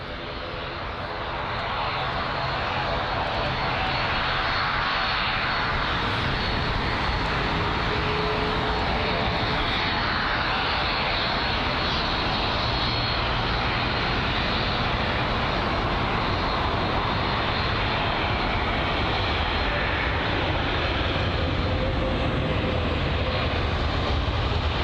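An arriving airliner on approach to London Heathrow, a loud, steady jet roar that swells in the first seconds and holds near and continuous throughout, with no talk over it.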